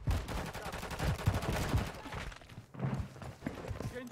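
Rapid gunfire from Call of Duty: Modern Warfare III, dense bursts of automatic shots with thuds and clatter, loud and continuous through most of the stretch with a brief lull before firing resumes.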